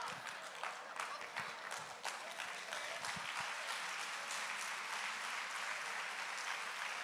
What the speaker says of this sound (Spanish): Yo no sé por qué están aplaudiendo